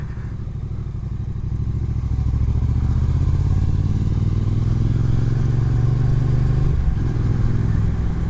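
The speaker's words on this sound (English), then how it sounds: "Oh, I never throttled the bike this much." A Bajaj Pulsar 220 motorcycle engine is throttled up from idle into a steady, loud, rumbling rev that holds high for several seconds, heard close with no talk.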